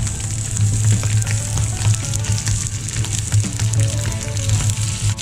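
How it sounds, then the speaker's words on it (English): Venison sausages from a butcher fry in a new Seculon pan, giving a steady, close crackling sizzle with a low continuous hum underneath, no talk. "let's get these wonderful venison sausages on to cook"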